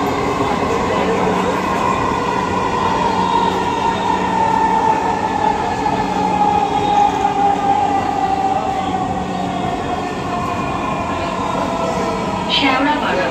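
A Dhaka metro rail train runs at speed with a steady, loud rolling roar and rumble of wheels throughout, a brief squeal near the end, and faint voices in the carriage.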